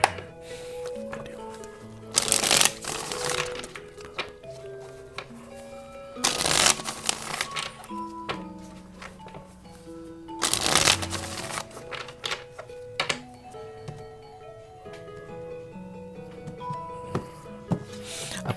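A deck of tarot cards is shuffled repeatedly, with bursts of riffling flutter and papery slaps recurring every few seconds, close and steady, over faint background music.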